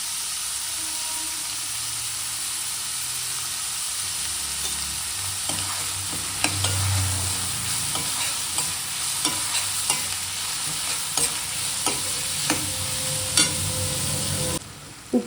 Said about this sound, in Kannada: ಹೀಗೆ ಹಸಿಮೆಣಸಿನ್ಕಾಯಿ, ಈಗ ಈರುಳ್ಳಿ, ಈಗ ಅರಿಶಿನ ಹಾಕ್ಕೊಳ್ಳೋಣ.